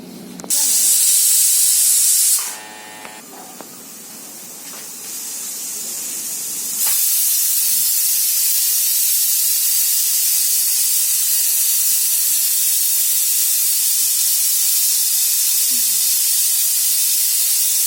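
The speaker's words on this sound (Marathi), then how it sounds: "कुकरला झाकण लावलं आता पाच शिट्ट्या होऊ द्या" Loud, continuous hiss of steam jetting from a pressure cooker cooking chicken gravy, briefly interrupted, then resuming steadily and strongly for a long stretch.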